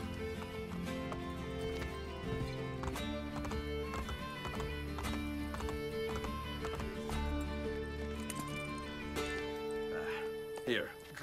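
Horse hooves clip-clop in a steady trotting rhythm in Assassin's Creed Brotherhood, with occasional whinnies and game voices speaking over the galloping footfalls.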